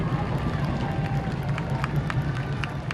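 Fans at a high school football game between Nashua North and Manchester Central cheer on the Titans, a broad crowd roar with claps and shouts rising above a steady low rumble.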